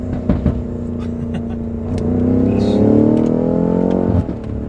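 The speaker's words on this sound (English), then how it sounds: "This one's got a little more burble feedback for us." A BMW M5 CS car engine revs up with a deep, rumbling exhaust burble that swells and rises in pitch, loud and close, then settles back.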